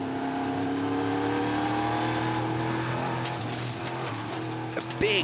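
Onboard engine of Vladimiris Choitzis's EuroNASCAR race car during a NASCAR GP Croatia round, a loud steady drone that shifts as he works through a corner, with brief rattles and a sharp high burst near the end.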